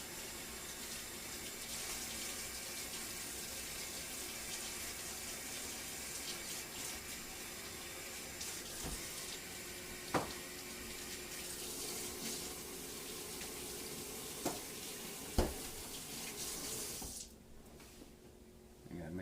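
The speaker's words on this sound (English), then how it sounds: "I'm gonna wash my hands" A kitchen tap runs in a steady, faint stream for hand washing, broken by a few soft clinks before it cuts off near the end.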